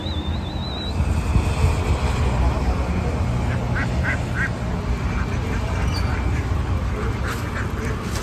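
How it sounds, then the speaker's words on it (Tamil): A flock of about 200 ducks quacking together as a dense, steady chatter that runs through the whole stretch, with wind noise on the microphone and a voice speaking over it. "வாத்து ஃபுல்லாக இங்கே தாங்க இருக்குது"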